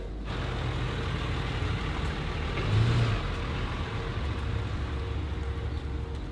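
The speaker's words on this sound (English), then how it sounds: "I think I hear his truck" A truck engine hums nearby, swelling briefly as it revs and moves closer before settling into a steady idle-like drone.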